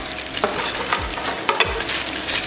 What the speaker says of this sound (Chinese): 然后把香肠给它下里边，炒好以后咱们把这个米饭给它下里边